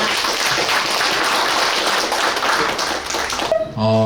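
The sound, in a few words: audience applause welcoming a speaker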